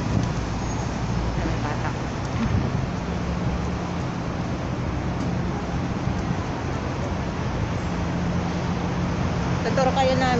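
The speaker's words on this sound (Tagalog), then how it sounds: "sa ingay ba naman ng sasakyan" Steady roadway traffic noise fills the whole clip, a continuous engine rumble with people talking faintly underneath, near a bus station in Macau.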